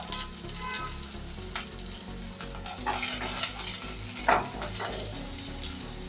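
Garlic and onion pieces fry and sizzle in a pan for a restaurant-style gobi manchurian, a steady crackling hiss with occasional stirring scrapes and clinks, close and with no talking.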